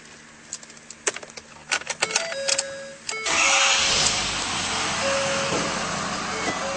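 A 2011 Ford F-250 Super Duty pickup starts up: a few clicks and key jingles, then a brief crank and the engine catching into a loud, steady, close idle.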